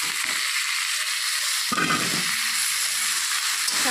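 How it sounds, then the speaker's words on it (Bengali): Lafa greens frying in a pan with potatoes and onions, a soft steady hiss that swells into a sharper sizzle as something hits the hot oil partway through. "শাকটা দিয়ে আবারও একটু ভেজে নেব"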